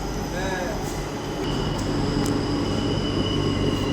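A Kolkata metro train on the Noapara–Airport line runs into a station with a loud, close rumble and rising squeal of wheels, steady and dominant throughout.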